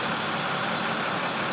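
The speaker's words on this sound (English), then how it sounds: "And this is checking my air compressor." A truck engine idles with a steady, dense rumble and hiss while its air compressor builds brake pressure, loud and unbroken with no voices.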